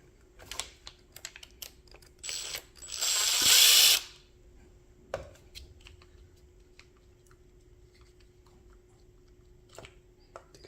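A screw is worked loose from the head of a Dovety spin scrubber, with small ratcheting clicks and taps around a brief, harsher whirring burst, close and fairly quiet.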